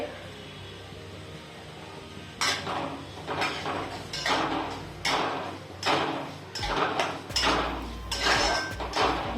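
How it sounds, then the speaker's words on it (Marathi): Semolina (rava) roasting in ghee in a pan, stirred with a series of close, regular scraping strokes against the metal, about one every second, with a soft voice faintly underneath. "एक वाटी रवा घेतलेला आहे तो छान आता आपण भाजून घ्यायचा आहे"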